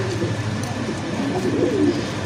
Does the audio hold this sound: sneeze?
no